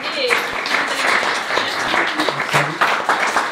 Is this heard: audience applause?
yes